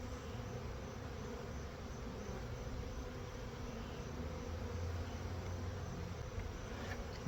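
Honey bees buzzing steadily in a hive being prepared for winter, a dense, continuous drone of many wings close by with no pauses or voices.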